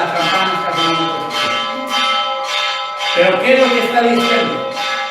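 Church bells ringing in repeated clangs with long ringing overtones, fairly loud and layered, while a person speaks over them.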